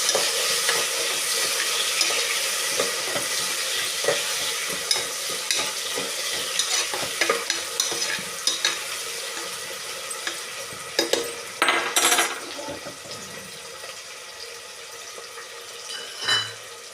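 Vegetables for a vegetable pulav frying in a pan, a steady close sizzle with scraping stirs and clinks of a utensil, ending with a few louder knocks and a brief splash of water.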